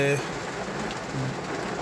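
Heavy rain pours down steadily in Wapda Town, Lahore, a dense even hiss of drops on surfaces with a faint murmur of a voice at the very start.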